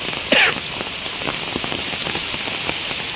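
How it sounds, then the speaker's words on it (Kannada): Steady rain patters on a hard surface, an even hiss with scattered drops and one brief louder splash near the start. "ಅಂದರೆ ಆ್ಯಕ್ಚುಲಿ ಇವಾಗಲೂ ಮಳೆ ಬರ್ತಿದೆ"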